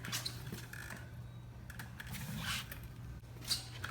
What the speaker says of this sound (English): He is starting to take off the bumper. There's a couple screws in here.